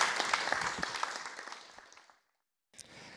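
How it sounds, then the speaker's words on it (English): Church congregation clapping during a Sunday service, a moderate burst of applause that tapers off and stops, followed by brief silence and a small sound. "Should we give her a round of applause?"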